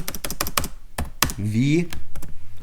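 Quick clicks of a computer keyboard being typed on, a burst of sharp close keystrokes interleaved with a man's speech.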